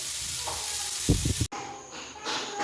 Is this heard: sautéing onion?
yes